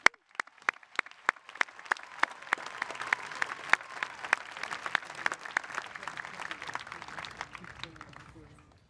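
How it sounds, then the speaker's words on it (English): Graduation ceremony audience applauding the class of 2021 speakers: a few loud, separate claps at first, then swelling into dense crowd clapping that slowly fades, with faint voices underneath. "Let's give another round of applause for our 4 speakers tonight."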